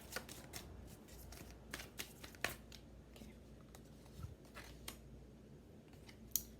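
Tarot cards being shuffled by hand before the final outcome card is drawn, giving faint, close, repeated crisp riffling and snapping bursts in an irregular rhythm with no talking.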